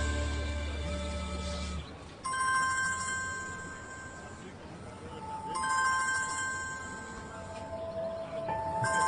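Electronic phone ringtone chiming in repeated tonal bursts, fairly loud and close, over a low room hum with no clear speech.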